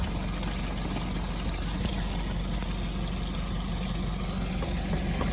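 Water draining out of the bladder bag of a Toyota MR2, a steady, continuous pouring and trickling stream, faint and even throughout with no voices.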